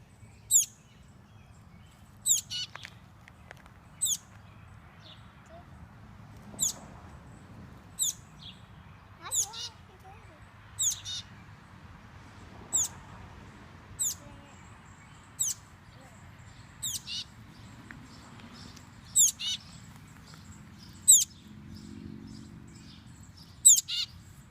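A scared baby bird gives sharp, high chirps at roughly regular intervals, close and clear over a quiet indoor hum, with faint low voices in the background.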